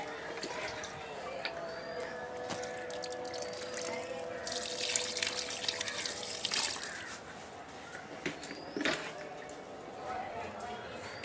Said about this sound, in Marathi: सगळ्या झाडांना ओततो